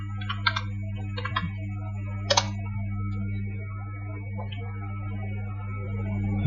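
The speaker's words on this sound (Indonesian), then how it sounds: "Kita ketikkan Wireshark" A computer keyboard clicks in short bursts of quick keystrokes, close and crisp, with pauses between clusters over a steady low electrical hum.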